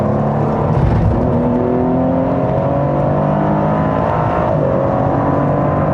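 A Ferrari F50 and GT supercars drive past, a loud, steady engine drone with gliding pitch as the cars accelerate and shift, close and with no talk.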